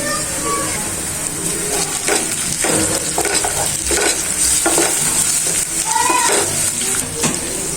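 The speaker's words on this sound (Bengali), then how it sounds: "মশলাটা ভালোভাবে কষিয়ে নিয়েছি" A ground paste of onion, bay leaf, garlic, ginger, cumin, coriander and garam masala sizzles in a pan for brain bhuna, with loud, repeated scraping stir strokes over a steady frying hiss.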